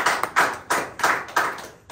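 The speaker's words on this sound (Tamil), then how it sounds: "கைத்தட்டி ஆண்டவரை மகிமைப்படுத்து" A church congregation claps together in a steady rhythm, about five loud, sharp claps spaced evenly, with no voices over them.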